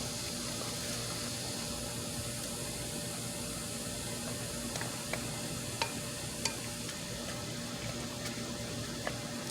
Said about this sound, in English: we're going to give this a really, really good mix